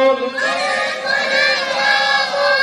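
A large crowd at a religious gathering shouts the takbir together in a loud, sustained chorus of raised voices that swells and holds for a few seconds.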